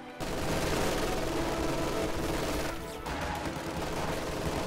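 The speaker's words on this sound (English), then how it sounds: "Mortar repositions, sets up, and will begin firing. There it goes." Mortar and gunfire in a real-time strategy battle game, a dense continuous crackle of distant firing and explosions with a short lull, no voices over it.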